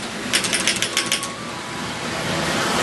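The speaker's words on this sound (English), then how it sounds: "Right here in the middle we have a little telegraph key." A toy telegraph key on a small Christmas model railroad layout clicks in a quick burst of about eight light taps in the first half, then stops, leaving a steady background hiss.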